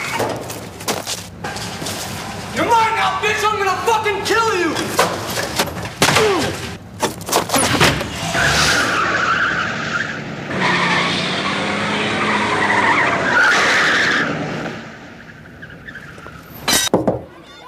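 Car tires skid and squeal in long screeching bursts as a car brakes to a stop, loud and close, with shouting voices and engine noise around them.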